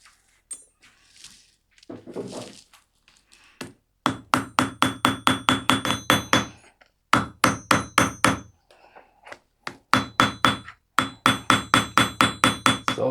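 Sharp metal hammer strikes close a copper rivet and washer on a leather belt, landing in quick rhythmic bursts of six to eight blows separated by short pauses, loud and close, with a few softer handling noises before the first burst.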